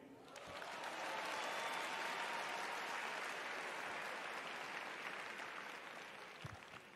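Sustained applause from a comedy club audience greeting a comedian from Atlanta, Georgia as he takes the stage, a dense wash of clapping that swells quickly and holds steady, with a few faint voices and whoops mixed in.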